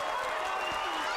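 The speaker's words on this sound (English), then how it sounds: "Standing ovation by this crowd." A boxing arena crowd gives a standing ovation after the eighth round, with a broad wash of applause and cheering filling the space while a commentator talks over it.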